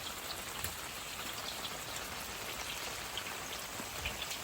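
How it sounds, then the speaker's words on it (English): Pouring rain at a camping spot patters densely and evenly on surfaces, a steady close hiss of drops with scattered sharper taps and no voices. "Pouring rain."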